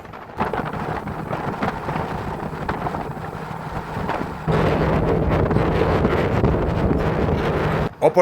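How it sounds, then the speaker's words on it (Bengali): Strong wind buffets the microphone in a constant roaring rush on a launch crossing the stormy Padma River, growing louder halfway through and cutting off abruptly near the end. "বৈরী আবহাওয়া এবং প্রবল বাতাসের কারণে পদ্মা নদীতে দেখা দিয়েছে উত্তাল ঢেউ"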